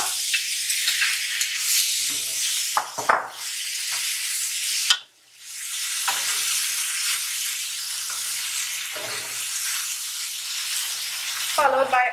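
Penne pasta tumbles into a hot pan and sizzles, a loud hissing fry broken by a few sharp clatters and stirring scrapes.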